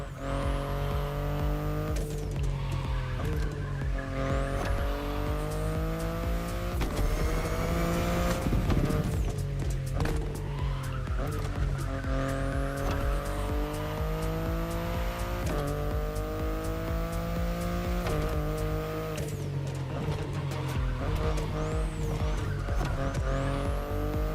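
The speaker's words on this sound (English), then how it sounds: "the i8, the sports car you're driving" A BMW i8 sports car in The Crew Motorfest, its engine loud and close. It revs up and down through repeated gear shifts while the tires squeal and skid, with no voices.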